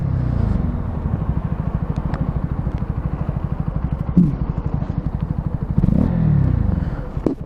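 Honda CB 125R motorcycle running hard at full throttle with a fast, pulsing single-cylinder exhaust beat, then braking at the last moment as the engine note drops, loud and close throughout with no talking.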